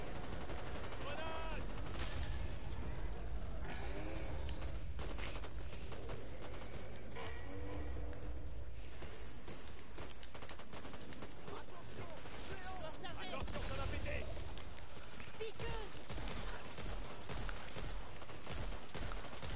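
Pump-action shotgun blasts in the co-op zombie shooter Back 4 Blood, repeated loud shots amid dense chaotic gunfire and explosions, with people talking over the action.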